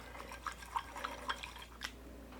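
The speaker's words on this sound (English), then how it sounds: "I'm going to add a little bit of the water" Small splashes and drips of water trickle into a dye mixture for fiber dyeing, several soft irregular plops close up over a quiet background.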